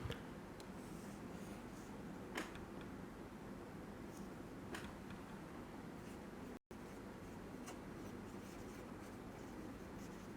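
Marker or chalk writing on a board during a classroom biology lecture, a steady scratchy stroking with a few sharper ticks, close and moderately loud over a constant room hum, with one brief dropout.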